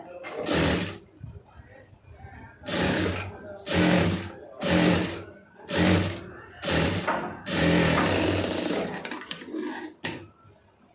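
A tailoring sewing machine stitches a fabric strip in about seven short, loud bursts of rapid needle rattling, separated by brief pauses.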